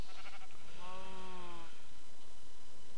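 Minecraft sheep bleat once, a clear wavering cry lasting about a second, in an otherwise quiet game scene.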